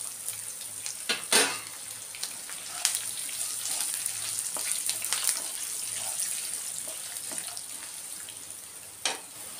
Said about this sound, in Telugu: కరివేపాకు, ఎండుమిర్చి కూడా వేసేద్దాం.